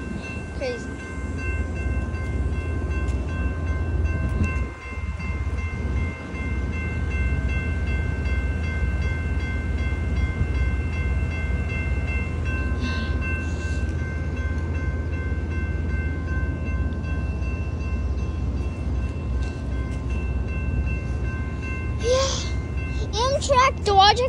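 A train rumbles past steadily and loudly in Michigan with a low roar and sustained tones, squealing wheels near the end, and a person talking over it.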